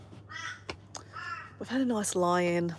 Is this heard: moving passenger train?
no